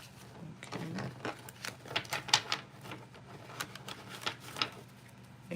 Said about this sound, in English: I apologize in advance for the loud shuffling in the ears